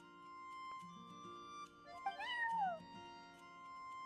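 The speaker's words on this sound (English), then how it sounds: "I'm sorry, that's my neighbor's cat" A neighbor's cat meowing in Genshin Impact, one drawn-out rising and falling meow heard over soft game background music, with no talking.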